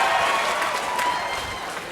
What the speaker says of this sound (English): People clapping for this.